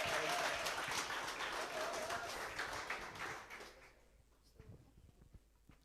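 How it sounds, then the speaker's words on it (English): Applause from an audience at a Manila developer camp, full and dense at first, then thinning out to a few scattered claps and quiet room noise. "Give them another round of applause."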